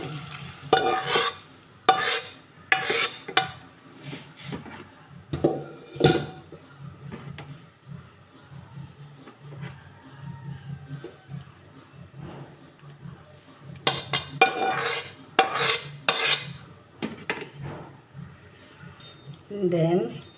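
Boiled mung beans tipped into a pot and stirred for a Bicolano ginisang monggo, with scraping clatters in bursts at the start and end over a low steady simmer; a voice talks now and then.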